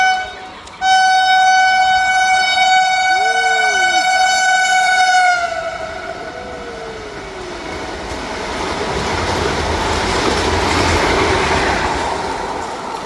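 A loud train horn blares with a long harmonic tone, then a train rumbles past with rising and fading roar of wheels on rails.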